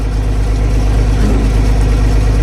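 An International Harvester 1586 tractor engine runs steadily after a cold start, with a loud, close, even low rumble and a constant drone and no speech.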